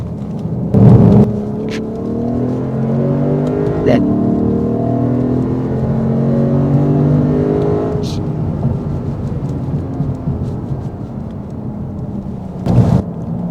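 A Lexus RC F roars steadily on a race track, heard loud from inside the car as the engine note climbs and dips through corners, with occasional thumps and someone speaking over it.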